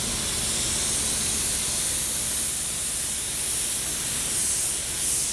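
Spray gun laying paint on a 1971 Volkswagen Deluxe bus, a steady close broadband hiss of atomized paint and air running continuously without pause.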